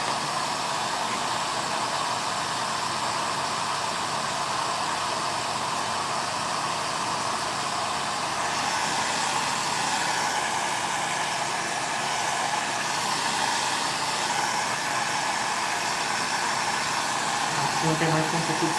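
Hair dryer blowing steadily to dry craft paint on a stenciled floral box, a loud, close whooshing rush that runs unbroken throughout with only slight shifts in tone.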